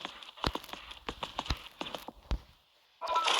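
A jumping horse's hooves strike the ground in a quick, uneven clip-clop of close thuds during the ride, then go quiet briefly before a loud burst of rushing noise.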